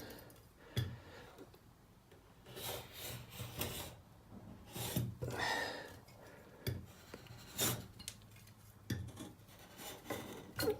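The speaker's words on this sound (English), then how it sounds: "Just going to run a knife down the top of the skirting" A knife scored along the top edge of a wooden skirting board to break the decorator's caulk seal, making quiet repeated rasping strokes with occasional small ticks.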